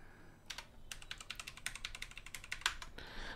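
Keys tapped on a computer keyboard while entering a mobile number into an online ITI admission form, a close run of quick irregular clicks after a brief pause, with no talking.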